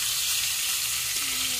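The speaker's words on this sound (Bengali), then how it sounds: "এদিকে মাছগুলি আমি ভেজে নিই।" Fish pieces frying in hot oil in a pan, giving a steady, close broadband sizzle that runs unbroken throughout, with a faint tonal clink near the end.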